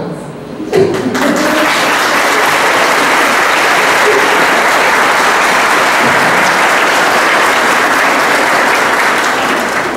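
Loud, sustained applause fills a parish church at a Confirmation Mass, a thick wash of many hands clapping close by that swells suddenly and keeps its full strength for the whole stretch.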